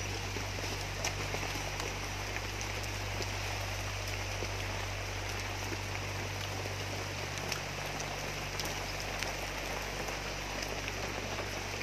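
Heavy rain pours steadily outdoors during a search operation in Thailand, a dense continuous hiss of drops on surfaces with a low rumble beneath, constant and close throughout.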